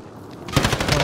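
Automatic gunfire in a battle royale video game firefight, starting halfway through as a loud, dense rapid burst of shots after a quieter lead-in, with no talking.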